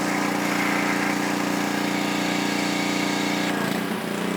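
An air compressor runs with a loud, steady buzzing drone close by, shifting abruptly near the end as its tone changes, during a car wash of an Audi SQ5.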